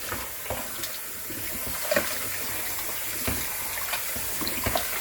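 Cold running water splashes steadily from a tap, with occasional clattering and handling sounds as chicken is washed under the flow.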